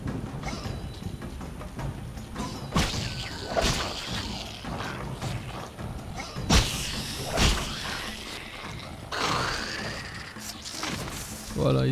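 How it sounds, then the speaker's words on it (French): Explosions in The Witcher video game: several heavy blasts and crashing thuds strike at uneven intervals amid ongoing combat noise, with a voice speaking French at times. "Voilà, ils explosent et se tuent entre eux."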